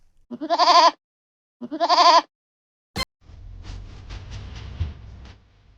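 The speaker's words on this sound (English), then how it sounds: "Farmer Ben's goat got it." A goat bleats twice in close succession, loud and near, on a farm field, followed by a sharp knock and then a stretch of low rumbling background noise.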